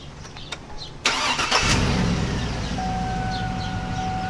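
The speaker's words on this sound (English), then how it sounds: "he's going to start the car now" A Denali engine cranks and catches, then settles into a steady idle, close and fairly loud, with no one speaking.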